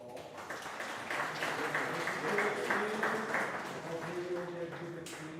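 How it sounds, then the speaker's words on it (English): Applause for local players at a darts Pro Tour event in Norway, a steady spread of many hands clapping in a hall for several seconds, with talk running over it. "So applause to you all."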